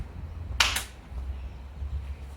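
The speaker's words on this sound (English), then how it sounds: "Maybe 2 claps this time." Two quick hand claps in rapid succession sound close and crisp in a quiet room during a home PE catching exercise, then only faint background hum remains.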